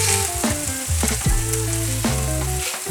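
Shredded potato hash browns, spread thin across a pan, fry with a steady, even sizzle that carries on throughout, with tonal background music playing over it.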